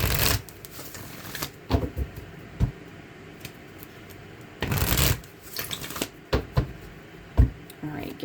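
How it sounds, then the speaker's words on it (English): A deck of cards being shuffled by hand in several separate riffling bursts, crisp and close, with quieter handling sounds between them. "get a good shuffle"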